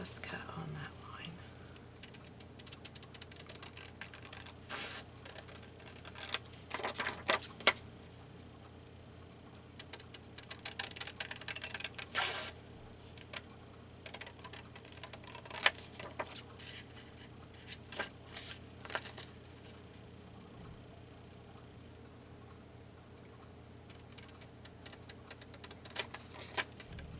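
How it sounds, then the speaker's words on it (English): Paper being cut along a straight line for a junk journal tag, heard as a long series of soft, crisp snips and rustles at close range over a low, steady hum, with slow pauses between cuts. "And then I can just cut on that line."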